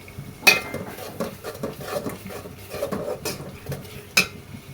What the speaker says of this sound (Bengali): এবার এটা একটু কষিয়ে নেব।